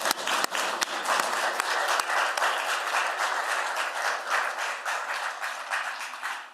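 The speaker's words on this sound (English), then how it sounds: "a round of applause to Yuri" Audience applause at the closing of the GOOD24 data conference, a dense round of clapping from a seated crowd that holds steady and fairly loud, then tapers slightly toward the end, with no talking over it.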